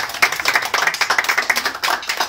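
Rapid, close clapping from a small group at an award lunch, sharp irregular hand claps overlapping in a dense, lively rhythm throughout.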